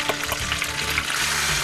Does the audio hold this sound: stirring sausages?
yes